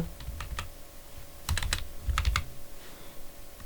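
Quick clusters of keystrokes on a computer keyboard while entering an Excel formula, with close, crisp clicks in short irregular bursts.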